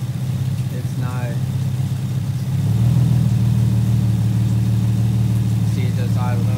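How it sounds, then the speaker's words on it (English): A Nissan 350Z engine with a misfire idles roughly, its low hum rising slightly partway through as the idle climbs back up, with someone talking briefly over it. "see, it just idled up right there."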